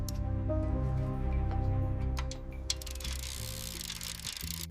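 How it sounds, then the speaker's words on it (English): Torque wrench tightening engine cylinder head bolts, a few sharp clicks and ratcheting ticks over a droning mechanical background, heard alone with no talk. "A torque wrench clicks to exact specifications as cylinder head bolts are tightened"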